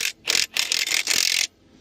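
A socket wrench loosening trailer lug nuts ratchets in several quick bursts of rapid clicking separated by short pauses, close and crisp.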